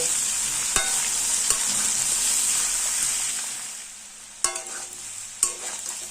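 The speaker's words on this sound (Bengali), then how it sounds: "বেগুনটা দিয়ে দিলাম এবার বেগুনটাও সবজির সঙ্গে দেড় দুই মিনিট ভেজে নেব" Long eggplant strips fry with vegetables in a pan over a high flame, giving a steady bright sizzle with a few sharp clacks of a spoon stirring, close up and without talk.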